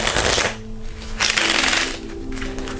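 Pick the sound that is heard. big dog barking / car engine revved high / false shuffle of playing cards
false shuffle of playing cards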